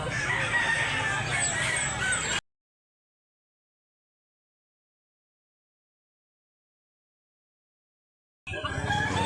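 Roosters crowing at a poultry market in Mantalungon, Barili, Cebu: a dense burst of loud, overlapping crows, then a long silent gap before the crowing returns briefly at the end.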